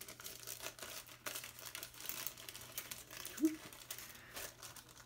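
Cut paper shapes being dropped into a bag, giving soft, irregular crinkling and rustling over several seconds, close and fairly quiet, with no talking.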